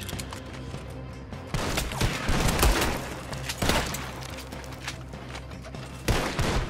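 Gunfire in the Western game Red Dead Redemption 2, a volley of sharp shots with several close, loud cracks among scattered quieter ones, set against a background of low game ambience.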